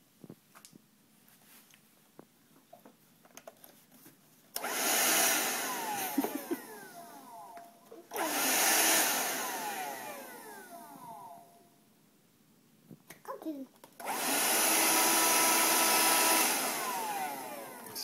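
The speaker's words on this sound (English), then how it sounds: "Shark vac." Shark vacuum cleaner indoors, switched on and off in three loud whining bursts of several seconds each, with quieter gaps of handling noises between them, close to the listener, no talking.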